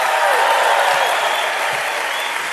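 A large conference audience applauds and cheers in a continuous dense roar of clapping, loud and sustained throughout with scattered shouts inside the hall.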